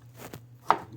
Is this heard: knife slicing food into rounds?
yes